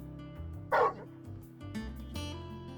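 A dog in Final Fantasy XVI gives one short, loud bark against steady game music and ambience, followed by a quieter second sound.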